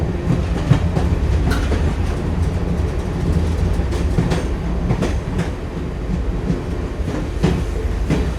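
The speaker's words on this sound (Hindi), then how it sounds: "ट्रेन से सब दूर हट जाएं। ट्रेन अब रवाना होने जा रही है।" A train pulls out of a station, rumbling loudly and steadily with rhythmic clickety-clack of wheels over rail joints running throughout.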